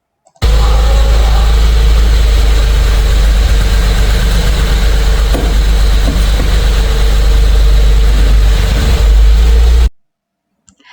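A manual car's engine runs steadily as the clutch is eased out and the car begins to move, a loud, close, continuous low rumble that cuts off abruptly near the end.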